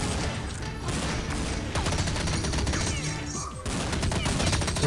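Dense, rapid gunfire in an online multiplayer shooter game, including MP5 submachine gun bursts, loud and nearly continuous throughout with overlapping shots and impacts.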